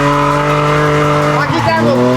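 A drifting car at full throttle roars with a loud, steady engine note, and tire squeal rises near the end as the car slides.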